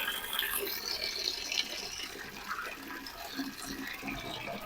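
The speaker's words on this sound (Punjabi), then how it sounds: "ਪਾਣੀ ਛੱਡ ਦੇ" Water is left running from a tap, a moderate splashing gurgle with shifting bubbly spatters, fairly faint and steady throughout.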